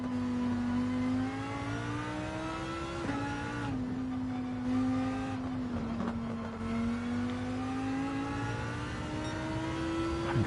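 A BMW's engine drones in a sustained rev with a steady pitch that climbs slightly and dips briefly, running continuously with no speech.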